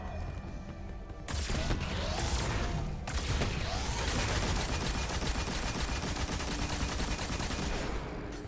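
Sustained automatic fire from the Thunderlord machine gun in Destiny 2 roars loud and continuous for most of the stretch, layered with impacts and game effects, after a brief quieter opening.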